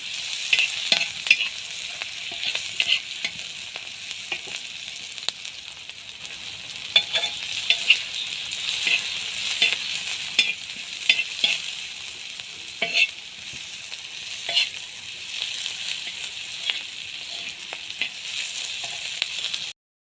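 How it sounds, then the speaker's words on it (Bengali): Onion and green chillies fry in leftover oil for pointed gourd, a continuous close sizzle broken by frequent scraping stirs and small clinks of the spatula against the pan, with no speech. "পটলের জন্য পেঁয়াজ মরিচ ভেজে নিচ্ছি পটলের যে তেল ছিল সেটার মধ্যে ভাজ ভাজতেছি"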